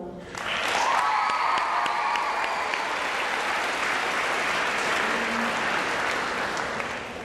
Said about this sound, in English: Please stand when your name is called and remain standing for your applause.